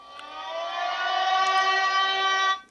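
A Unihertz Tank 2 rugged phone sounds its warning siren: a loud, steady electronic wail with stacked harmonic tones, holding for over two seconds before cutting off abruptly.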